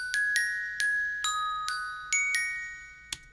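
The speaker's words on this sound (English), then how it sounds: "Glockenspiel sounds like this." Glockenspiel struck with metal hammers, eight bright ringing notes at an uneven, unhurried pace, each chiming strike decaying slowly into the next, close and clear with nothing else playing.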